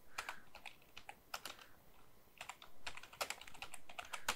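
Typing a search on a computer keyboard, with quick irregular clusters of crisp key clicks, some isolated taps and short pauses, close and alone.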